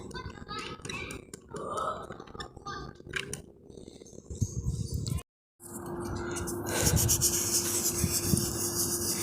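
Steady abrasive rubbing of sanding across body filler on a GAZ 2410 car body, continuous and close, following a stretch of mixed handling noise and a brief silent gap.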